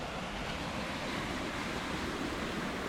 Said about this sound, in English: So the water obviously came over the edge. We have rapids.